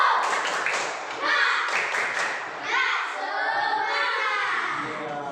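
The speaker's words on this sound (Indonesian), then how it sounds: "mari coba kita sama-sama tepuk semangat" Children in a classroom clap a rhythmic 'tepuk semangat' cheer pattern together, bursts of clapping mixed with young voices chanting along, fairly loud and continuous.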